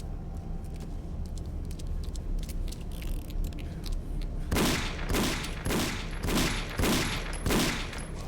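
Shotgun blasts in the horror game Condemned: Criminal Origins, a rapid run of about six loud, close bursts in steady rhythm after several quieter seconds of low ambient noise.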